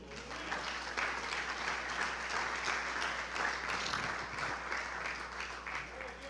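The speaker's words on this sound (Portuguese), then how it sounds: "Aplauda o Senhor." A church congregation applauds its pastor during a sermon, a dense, steady wash of clapping filling the whole stretch at an even level, with faint voices mixed underneath.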